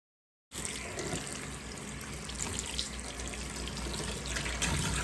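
Tap water runs steadily over a wig as conditioner is rinsed out in a sink, a continuous close splashing hiss that begins after a brief silence and holds even throughout.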